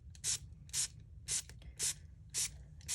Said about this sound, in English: I want to try and avoid the big spray that comes from the spray nozzle.